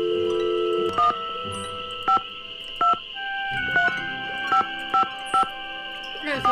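Push-button phone dialing tones in a Nancy Drew video game, a series of about nine short, evenly spaced beeps in varying pitches, sounded clearly over a steady background hum.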